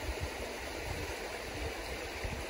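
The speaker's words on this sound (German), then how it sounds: "Ganz viel Wasser hier." Stream water rushes steadily on a woodland hike near a mill, a continuous broadband wash with low gurgling, heard close and alone without voices.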